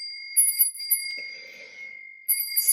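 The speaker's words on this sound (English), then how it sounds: "And this is a sanctuary bell that I use." A sanctuary bell used for prayer meditation is rung, giving clear sustained high metallic tones that ring on and decay, struck twice with a brief pause between.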